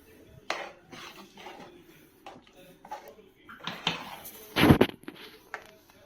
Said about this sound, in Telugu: ఇదంతా బాగా కలుపుకుంటున్నాను